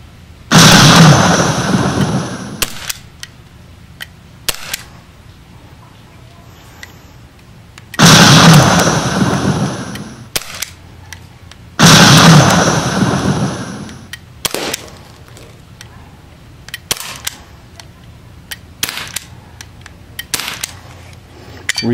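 A Gamo PT-80 air pistol fires pellets, several loud, sharp pops spaced seconds apart, each followed by a brief rushing tail, with quieter clicks and handling noises between shots.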